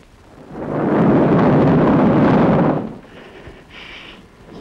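A single heavy roll of thunder on a stormy night rumbles loud and deep for about two seconds, then fades into faint background noise.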